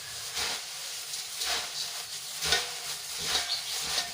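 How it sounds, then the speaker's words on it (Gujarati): Sev and puffed rice tossed together by hand for garlic sev mamra: soft, rhythmic crunchy rustling sweeps about once a second over a hissy background, close, with no talking. "સેવ નાખીને આપણે એકવાર હલકા હાથે સરસ રીતે મિક્સ કરી લઈશું"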